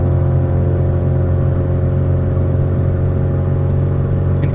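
A 1990 Acura Integra RS with about 400,000 miles drives along, its engine giving a steady, loud in-cabin drone with road rumble and no change in pace.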